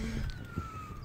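An ambulance siren wails faintly in the distance, a steady high tone drifting slowly downward across a brief moment with low rumbling background noise.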